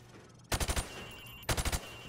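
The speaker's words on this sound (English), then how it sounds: "I want you to shoot the targets through the wood." Video game Call of Duty gunfire at plywood targets: two quick bursts of about four rapid shots each, a second apart, sharp and fairly close over a quiet background hum.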